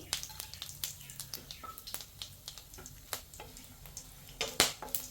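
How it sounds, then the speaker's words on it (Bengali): Whole spices, dried red chilli, bay leaf, cumin, cloves, cardamom and cinnamon, lightly frying in oil for a soybean curry, with crackling pops and stirring clicks over a soft sizzle, close up and with no voices. "হালকা ভেজে নিব।"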